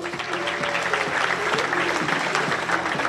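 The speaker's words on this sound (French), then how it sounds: "Je vous demande d'applaudir Erwin Bertrand." Audience applause for a young table tennis player at a club event, a steady dense clapping from a crowd that fills the room at constant loudness throughout, with faint voices mixed in.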